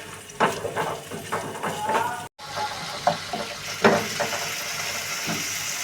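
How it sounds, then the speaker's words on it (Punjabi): Chopped tomatoes with half a spoon of salt sizzle and fry in a pan, with intermittent scraping strokes of stirring and a brief gap midway, moderately close and fairly quiet. "ਟਮਾਟਰ ਨੂੰ ਅਸੀਂ ਇੰਨਾ ਕੁ ਭੁੰਨਾਂਗੇ ਜੀ"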